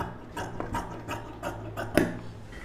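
Scissors cutting blouse fabric along a marked shape, a series of soft rasping snips and rubbing strokes at an uneven rhythm, close and fairly quiet.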